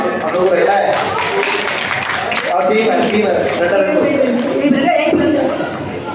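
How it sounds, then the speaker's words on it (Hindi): An audience claps and cheers after a patriotic stage drama about the Kakori incident, with a dense, sustained wash of loud applause mixed with crowd chatter and voices throughout. "तो एक बार जोरदार तालियां हो जाए।"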